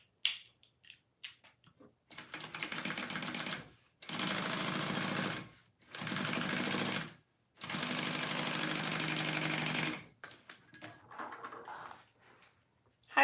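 A sewing machine top stitches a handmade wallet in three sustained runs of rapid mechanical whirring, separated by short pauses and framed by quieter handling clicks.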